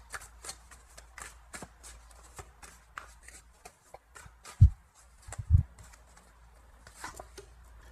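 Tarot cards being shuffled for a fresh draw, a soft papery riffling that runs steadily through the stretch with a couple of louder knocks midway, close and alone without talk.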